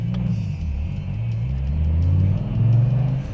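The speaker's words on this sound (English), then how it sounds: "Welcome to the new Dodge Viper ACR." A Dodge Viper ACR's engine idles and rumbles with a deep, steady burble, rising slightly in loudness toward the end as it revs gently, close and alone without talk.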